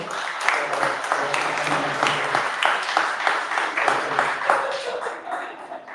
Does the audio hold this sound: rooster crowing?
no